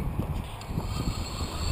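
Wind buffets the microphone outdoors during a drone flight on a blustery day, making a continuous low rumble with a thin, steady high whine from the motors above it.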